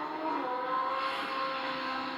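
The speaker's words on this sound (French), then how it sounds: "La moto circule 49 km/h au-dessus de la vitesse autorisée." A motorcycle speeds past on a road at high speed, well over the limit, making a smooth, sustained engine whine that stays steady for a couple of seconds. No one speaks.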